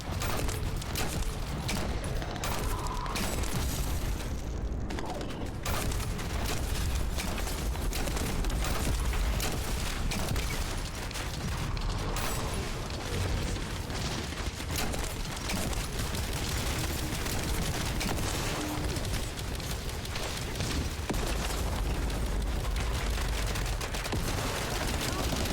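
Dense video-game gunfire, a constant barrage of rapid shots and bursts with explosive rumbles, loud and unbroken for the whole stretch, with a voice talking in the background.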